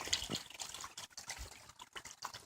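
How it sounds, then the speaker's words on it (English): Spring water flows steadily out of a corner in green, lush woods near old coal mines, a soft continuous trickle and splash with small drips, fairly close and alone. "Good bit of water flow from here."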